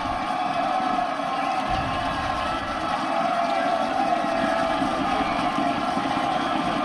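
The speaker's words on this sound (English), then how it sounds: "listen to this McKinney North crowd" A home crowd at a McKinney North high school football game cheering a touchdown, a steady wall of distant roaring noise that holds evenly throughout.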